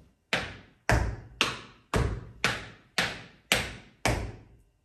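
Tap shoes with low-toned heels strike a floor in a beginner step-heel drill, giving eight crisp, evenly spaced, ringing taps about half a second apart, close and clear with no talking.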